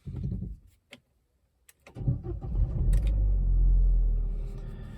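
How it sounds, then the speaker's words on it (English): A 2014 Opel Corsa D 1.4 starts up: a brief starter crank with a few clunks, then the engine catches and settles into a steady, loud low rumble close by, with no talking. "So let's start the car."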